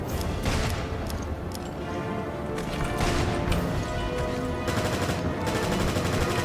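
Rapid bursts of gunfire crackle continuously in Resident Evil: Revelations raid mode, with sharp repeated shots and crashes layered densely throughout.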